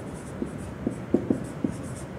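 Pen on paper while a class answer is handwritten, a handful of soft scratchy strokes spaced irregularly over a quiet room background, with no talking.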